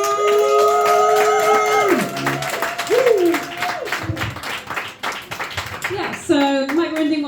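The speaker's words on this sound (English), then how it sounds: "Give her all your love, all your rounds of applause, and you're stamping and you're cheering" A comedy club audience gives a comedian steady applause and cheers, the clapping continuous and close, while a voice speaks over the crowd and music plays.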